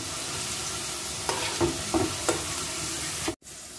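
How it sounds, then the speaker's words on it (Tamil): Ladies finger (okra) for a crispy fry is stirred in hot oil, a continuous sizzle broken by four or five soft spatula scrapes in quick succession, close and fairly quiet, cutting off abruptly near the end. "இப்போ நம்ம கிளறிக்கலாம் லைட்டா கிளறி விட்டுக்கலாம்"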